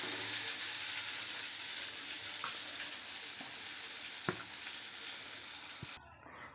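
Food fries in hot oil with a loud, steady, dense sizzle that fills the whole stretch, with a few faint clicks of a utensil and a sudden drop at the end.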